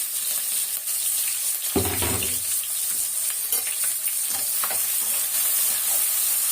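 Two large onions with fresh curry leaves sautéing in a pan for chicken kuzhambu, a constant close hiss of frying with a heavier scraping stir near the two-second mark and lighter stirring afterward, no one speaking.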